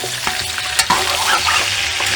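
Garlic, ginger and onion frying in a pot for an old-style chicken curry, stirred with steady scraping and a constant close sizzle. Nobody speaks over it.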